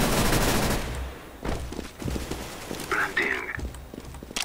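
Video game gunfire crackles as a dense burst of shots at the start, then sparser distant pops follow while a player talks over the action.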